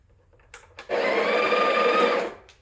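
A Breville Barista Pro BES878 espresso machine's built-in grinder, set to grind size 18, whirs loudly and steadily for about a second and a half after a few brief clicks, then stops.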